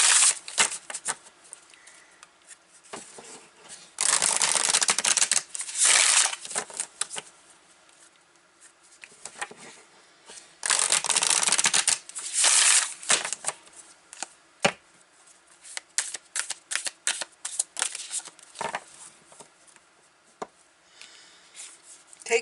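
Tarot cards riffled and shuffled by hand in bursts: two long, loud riffles, then lighter scattered flicks and taps of the deck, close by, with no voice over them.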